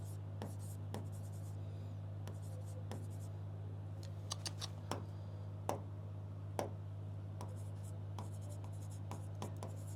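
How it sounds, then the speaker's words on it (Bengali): Handwriting during a recorded lecture, faint scratchy pen or chalk strokes with occasional sharp taps over a steady low electrical hum. "তাহলে এইখানে আমি লিখে দিই পুঞ্জিত ক্ষয়"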